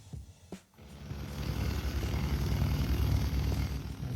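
A propeller airplane sweeps past, opening with a couple of faint clicks before a rising roar swells and holds loud, full and rumbling for the remaining seconds.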